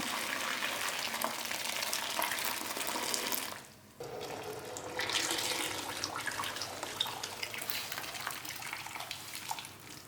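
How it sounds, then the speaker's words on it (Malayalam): Boiling water pours into a pot holding a bamboo puttu steamer tube in a continuous rushing splash, briefly stopping and then resuming, close by with a steady gurgling hiss. "ഇതിലോട്ട് ഞാൻ തിളച്ച വെള്ളം ഒഴിക്കുകയാണ്"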